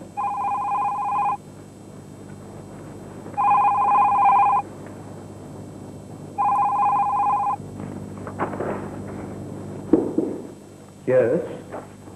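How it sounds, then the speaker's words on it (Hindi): A telephone bell rings in three clear, evenly spaced bursts in an indoor scene from a 1994 drama, followed by a few faint handling knocks and movement sounds. "अमित प्लीज फोन मत उठाइए।"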